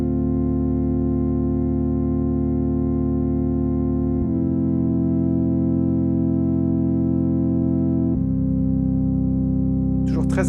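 A sustained Hydrasynth Desktop synthesizer pad holds smooth, rich chords that change twice, then a brief burst of noise at the end.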